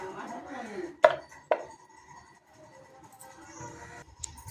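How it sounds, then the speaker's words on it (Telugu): A knife slices okra into round pieces, with two sharp, loud chops against a cutting board followed by fainter taps and light kitchen clatter, close by. "ఈ బెండకాయ ముక్కలన్నీ ఇట్లా కోసేస్తున్నాము"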